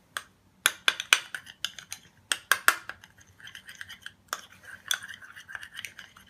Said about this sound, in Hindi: सब चीज़ों को हम मिक्स कर लेंगे।